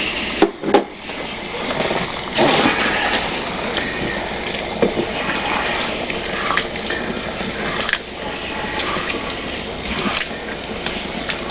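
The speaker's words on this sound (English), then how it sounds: "we're going to put in our canned tomatoes" Undrained diced and crushed canned tomatoes pour into a chili pot, a continuous wet sloshing and glugging pour close by with occasional clanks and splats of the can and spoon.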